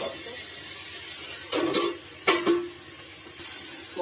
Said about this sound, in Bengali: মশলাটা কষানো চলছে।